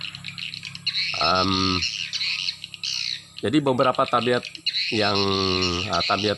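Swiftlets give repeated chirping calls in bursts near a house, close and fairly loud, with someone speaking between them.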